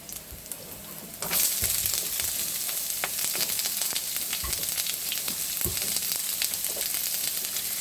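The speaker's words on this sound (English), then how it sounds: "You can see my olive oil is pretty hot. I'm adding the garlic to it." Garlic, then onion and bay leaf, dropped into hot olive oil in a pan for noodles. A quiet sizzle suddenly swells into loud, steady crackling frying that continues with small pops and occasional stirring.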